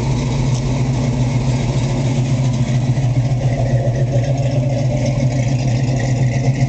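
A 1965 Ford Mustang Fastback 2+2 with a 351 Windsor V8 idles close by in a steady, deep, even rumble without a break.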